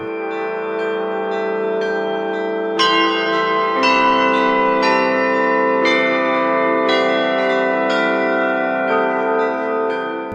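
Church bells in Mariana ring close and clear, with several struck tones overlapping and sustaining as new strikes enter at irregular intervals, bright and resonant with no voices.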